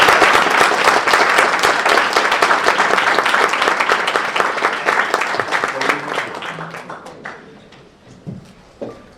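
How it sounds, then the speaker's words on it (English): An audience at a history association address applauds to welcome its president, Dr. Eva Baham. Close, dense clapping starts at full strength, then slowly thins and fades into a few scattered claps and quiet room noise. "I ask you to join me in a round of applause to welcome our president"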